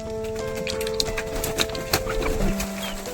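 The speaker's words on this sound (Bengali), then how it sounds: "এই আমি দরজা খুলে দিয়েছি, তোরা আস্তে আস্তে বাইরে আয়।" Chickens let out of an opened coop door give short, scattered clucks over a steady tonal background, fairly close and moderately loud.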